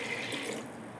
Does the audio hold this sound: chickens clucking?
no